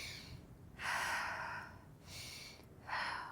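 Slow controlled breaths during a breathing exercise, a long airy inhale followed by a softer exhale and another inhale, close and quiet with no talking.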